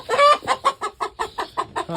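Chickens cluck close by at a poultry farm in a quick, steady series of short, rhythmic clucks, about eight in two seconds.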